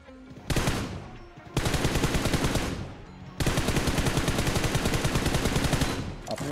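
Automatic gunfire from a shooting video game, with long sustained bursts of rapid rattling shots broken by short pauses, loud and close throughout.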